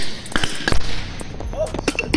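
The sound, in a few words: small fireworks exploding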